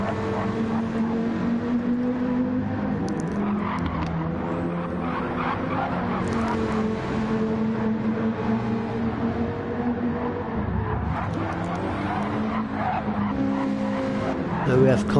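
A car drifting around corners in a PS4 racing video game, engine droning steadily with tire skids and squeals throughout, continuous and fairly loud.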